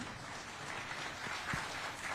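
An audience at an Aaj Tak Panchayat event applauds to welcome two deputy chief ministers: soft, continuous clapping from a crowd, faint and somewhat distant, with no one talking over it.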